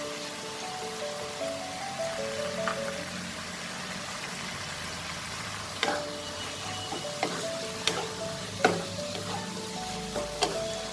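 Water spinach frying in a pan as previously fried potatoes are added and stirred in, with a steady sizzle and sharp scraping clinks from the spoon growing busier in the second half.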